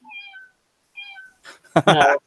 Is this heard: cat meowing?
yes